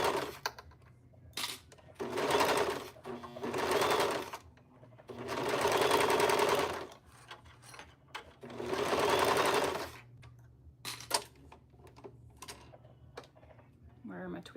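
A sewing machine runs in close bursts of rapid stitching on nylon fabric, several runs of a few seconds each separated by pauses with small handling clicks.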